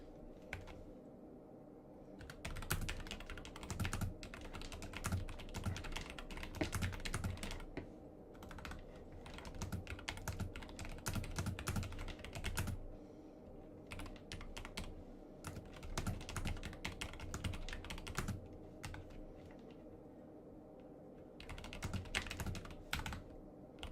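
Steady typing on a computer keyboard, close and quiet, with rapid clusters of key clicks broken by brief pauses, running continuously for about twenty seconds.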